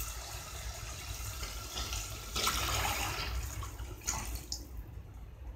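Water poured into a pan of mangochiya curry over fried masala, a broad splashing pour with sizzling that swells, then tapers off into a few smaller splashes.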